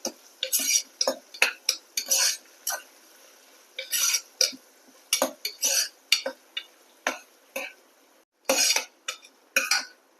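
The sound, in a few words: stirring sautéed onions with curry leaves in a pan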